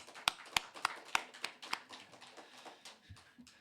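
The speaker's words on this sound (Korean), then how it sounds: "감사와 영광의 박수 올려드리겠습니다" Clapping in a church at an afternoon praise service, starting as a few sharp, separate claps near the listener and then thinning into quieter scattered claps that fade out.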